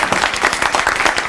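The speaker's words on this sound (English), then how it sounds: "can we give the round of applause to elected officials who came out here tonight?" Applause for elected officials at an evening legislative listening session, a dense steady clatter of many hands clapping close by, loud and continuous with no break.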